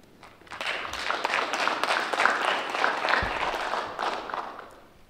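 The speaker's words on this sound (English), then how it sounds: "Let's have one more round of applause for all of our award recipients and winners this evening." A banquet crowd applauds award recipients and winners at a 2020 awards evening, a dense, steady burst of clapping that swells quickly, holds for several seconds, then tapers off.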